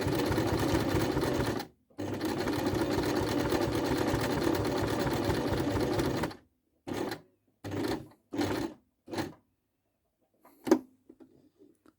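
A home sewing machine stitching a buttonhole runs in a fast, steady mechanical whir, pauses briefly, then resumes before breaking into several short stitching bursts and a final click, all close and clear.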